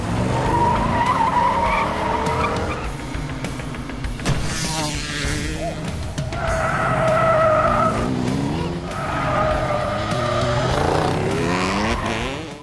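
Film car chase with tires skidding and squealing, loud sustained screeches rising and falling in repeated long bursts over roaring engines, with a crash-like thump midway and no talk.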